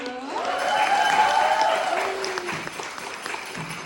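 An audience at an evening concert with guitar and banjo claps and cheers, swelling quickly then tapering off over a few seconds, with a voice speaking briefly as it fades.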